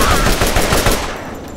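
A loud, close burst of rapid gunfire from the Borderlands shooter rattles for about a second, then tails off into a fading echo.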